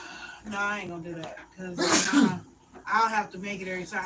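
A single loud, close sneeze bursts out in the middle of conversation, with people talking just before and after it.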